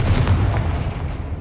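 In the Hogwarts Legacy video game, a Confringo fire spell explodes into a loud, heavy, rumbling boom that fills the brief moment and fades slightly, with no speech.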